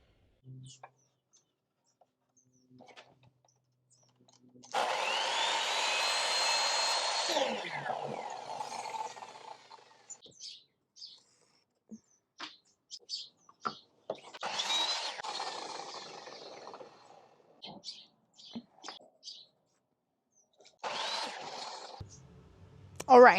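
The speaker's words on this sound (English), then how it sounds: "So I'm gonna cut 1 inch off the end of these 3/4 inch strips I cut." A power saw cuts one inch off the ends of 3/4 inch wooden strips in a workshop, with several loud cutting bursts of a few seconds each and quieter handling noises between them.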